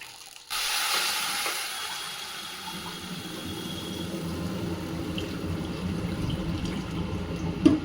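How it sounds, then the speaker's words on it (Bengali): Water pours steadily into a container with a continuous splashing hiss that starts abruptly and runs on unbroken, close and moderately loud. "এবার এর ভেতরে দিয়ে দেবো জল"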